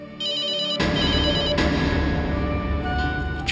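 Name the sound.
telephone ringing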